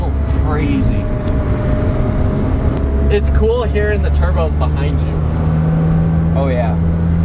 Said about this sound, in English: It's cool hearing the turbos behind you.